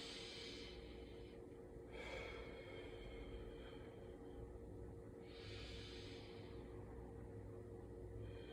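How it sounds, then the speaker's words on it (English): Slow, deep breaths during a boxing workout warm-up, with a couple of faint airy inhales and exhales spaced several seconds apart over quiet background hum. "take in some nice deep breaths"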